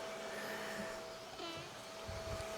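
An xTool Wonderpress vacuum former pulls a steady vacuum over a rubber seal, a continuous whooshing motor hum that holds at an even level from start to finish.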